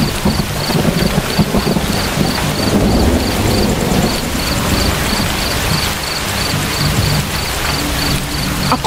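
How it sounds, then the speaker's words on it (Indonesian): Heavy rain pours steadily with rolling thunder rumbling low throughout, a dense continuous storm wash with faint insect chirps pulsing in the background, no voices. "Belum lagi hujan deras dan petir menambah kengerian Suri saat ini."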